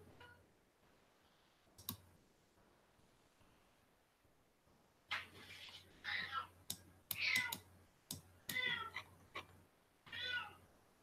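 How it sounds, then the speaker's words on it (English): A house cat meows several times, faint and somewhat distant, amid sharp clicks and soft whispery noises, with a quiet room hum underneath. "my cat's trying to enter."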